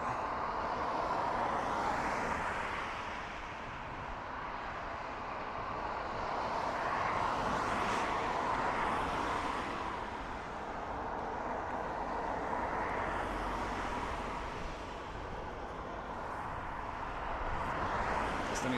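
A Ryanair airliner on final approach to Dublin Airport makes a distant, broad rumble that slowly swells and fades several times over steady outdoor background noise.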